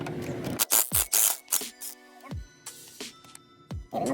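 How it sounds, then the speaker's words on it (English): A ratchet turns a nut on the axle of a 2008–2012 Honda Accord during a driver's side axle shaft replacement, giving several short bursts of clicking pawl sounds separated by brief pauses, close and fairly quiet. "I'm gonna use my other ratchet to put it on the other side to hold it"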